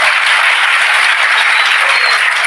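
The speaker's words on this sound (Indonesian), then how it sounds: "tepuk tangan dong" Loud, thick applause from a large crowd at a regular religious gathering led by Gus Iqdam. It stays constant and close throughout the short stretch, with no voices above it.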